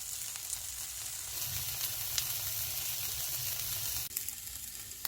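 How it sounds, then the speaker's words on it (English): Green tea leaves pan frying over low heat alongside eggs for bibimbap, a steady soft sizzle and hiss with occasional light crackles, close and without speech. "You can directly put the leaves into your bibimbap, but this time I'll pan fry."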